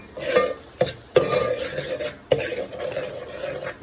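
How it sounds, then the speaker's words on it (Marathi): Malvani crab masala with turmeric being stirred in a pan, a few sharp scraping strokes of a utensil against the metal, close and clear, with soft frying underneath. "छानपैकी मिक्सिंग करून घेऊया"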